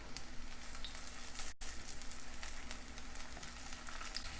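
Beetroot rice cutlets frying in oil in a pan, a steady close sizzle with crackling spits, briefly cut off for an instant midway, with no talking.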